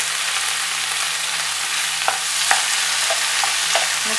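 Tomatoes, rock salt and coriander leaves for a hotel-style tomato chutney sizzle in a pan while being stirred, with a constant hiss and several soft scraping clicks from the spoon, close and with no talking.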